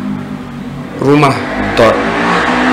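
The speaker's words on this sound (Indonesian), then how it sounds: "Suara motor itu." A motorbike engine revs briefly twice amid background noise, with someone talking nearby.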